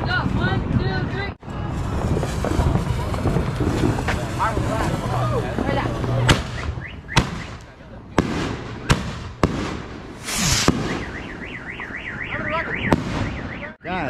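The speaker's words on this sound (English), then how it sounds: "We about to light this monster right here. Line the mortars up." Firework mortars launch outdoors in a rapid, loud barrage of booming shots and crackling bursts, followed by several sharp separate bangs, with people shouting and talking throughout.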